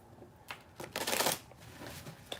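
Tarot cards being shuffled by hand make a few quick riffling bursts and soft papery slaps, close and fairly quiet, with a longer riffle in the middle.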